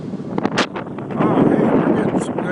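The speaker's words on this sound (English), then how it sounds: "We got some high winds going." High winds gust through the night before Hurricane Sandy in Perth Amboy, New Jersey, buffeting the microphone with loud roaring bursts and rustling a small tree, while someone talks over it.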